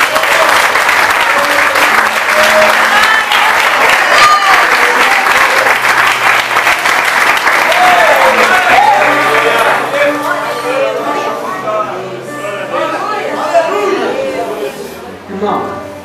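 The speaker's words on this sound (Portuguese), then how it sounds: "Uma salva de palmas para Jesus" Church congregation applauds loudly and steadily for about sixteen seconds, with voices and crowd chatter mixed into the clapping as it slowly thins toward the end.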